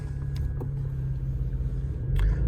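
A third-generation Toyota Tacoma fitted with a swapped Cadillac CTS V-Sport LF3 engine drives along, heard from inside as a steady low engine and road rumble with a few faint clicks and a slight swell near the end.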